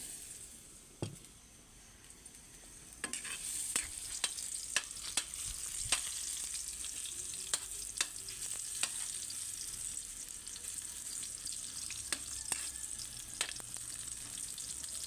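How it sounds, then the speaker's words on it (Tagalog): Sweet potato and banana fry in hot oil for pork kaldereta, a constant soft sizzle with scattered sharp crackles and pops, close and steady with no voices. "Pirito lang natin ng konti"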